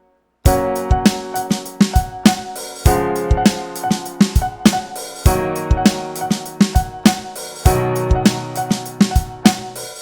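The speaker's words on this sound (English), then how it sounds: "a rhythm called the son clave, or just clave, and it sounds like this" A keyboard plays the son clave rhythm, with repeated bright chord stabs in the syncopated clave pattern, loud and close with no talking.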